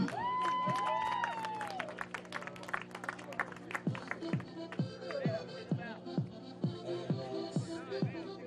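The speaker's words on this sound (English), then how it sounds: "Round of applause for our Herkimer baseball team." Applause and cheering for the Herkimer baseball team at a soccer championship game, a scattered, fairly quiet round of clapping with separate claps audible as it tapers off, after a voice on a PA.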